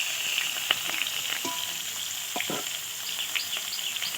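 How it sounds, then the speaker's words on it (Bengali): Pieces of fresh rui fish fry in hot oil with a steady, close sizzle and a few light scrapes and clicks of stirring, with no voices. "এবারে কয়েকটা তেলে মাছগুলো ভেজে নেবো"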